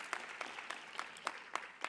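At an inter-municipality debate, a few people clap in a loose, slow rhythm, distinct separate claps spaced roughly a third of a second apart over a soft background murmur.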